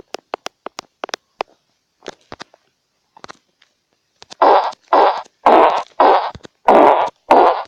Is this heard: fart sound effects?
yes